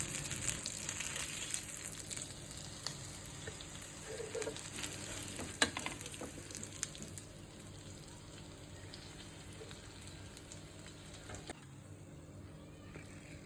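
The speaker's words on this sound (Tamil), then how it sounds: "மீன் நல்லா ஃப்ரை ஆயிடுச்சு இப்போ எடுத்துடலாம்" Crispy fish fries in hot oil, a steady soft sizzle and crackle with a few louder pops, continuous and fairly faint throughout.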